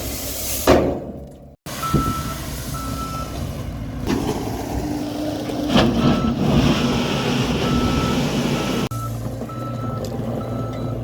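A skid steer works a garage build site spreading topsoil, its engine droning steadily and close with repeated reversing beeps, clanks and a brief lull partway through, no one talking.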